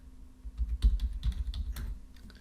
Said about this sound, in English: I'll go ahead and type it in here.